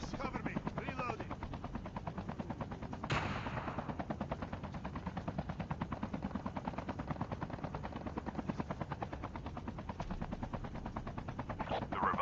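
Rapid automatic gunfire in a video game chatters nonstop in steady fast bursts, fairly quiet overall, with a louder shot or blast partway through and occasional game voices underneath.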